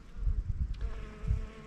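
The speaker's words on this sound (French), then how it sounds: "Et pour finir, le serpolet envahi d'abeilles" Bees swarming over a patch of wild thyme (serpolet) in an aromatic herb garden, a steady close buzzing drone with wingbeats swelling and fading as insects pass near.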